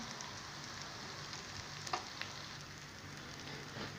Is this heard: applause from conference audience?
no